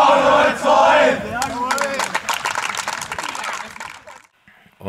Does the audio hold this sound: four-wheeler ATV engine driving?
no